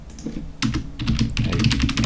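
Rapid, irregular clatter of keys being typed on a computer keyboard, close and fairly loud, with a brief pause before a denser burst of keystrokes; no voices.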